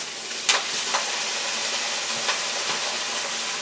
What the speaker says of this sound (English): Now we're gonna add the chili sauce